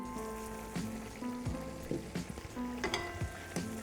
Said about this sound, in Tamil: அந்த தயிரோடு சேர்த்து தக்காளி எல்லாம் நல்லா வந்து பாயில் ஆகிடுச்சு